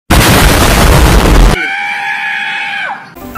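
A loud rocket strike explosion sound effect opens with a dense, roaring blast that lasts about a second and a half. It then cuts abruptly to a separate screaming, bleating sound that bends downward.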